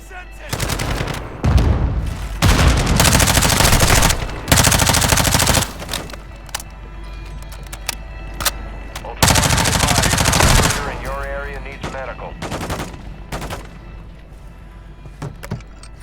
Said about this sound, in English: Watch out for the sentry guns.